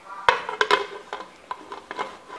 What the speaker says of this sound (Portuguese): E agora eu vou tampar essa panela.